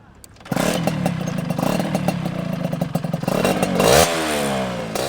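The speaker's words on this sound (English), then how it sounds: "give it a rev, see if it's still blowing smoke" A motorcycle that had been blowing smoke idles close by with a clattering note, then revs up sharply near the end.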